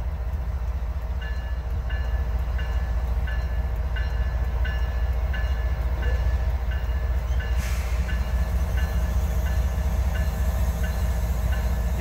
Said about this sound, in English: This will be his third train that Ray has seen today